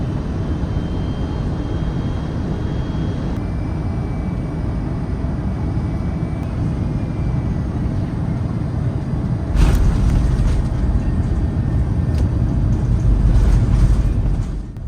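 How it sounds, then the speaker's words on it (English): A Malaysia Airlines airliner, an older plane arriving at Kuala Lumpur, roars steadily from inside the cabin on final approach, then jolts with a heavy thump at touchdown as the rumble swells louder. "We touched down at 7:53 a.m. local time, 13 minutes late."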